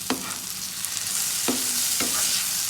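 Crispy prawn fry with crushed garlic is stirred in a pan, giving a continuous close sizzle broken by three distinct scraping knocks of a spoon against the pan, with no speech.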